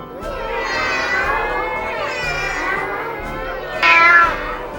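A person's voice imitates a cat's meow in a long, drawn-out, wavering call, ending with a brief louder, higher squeal.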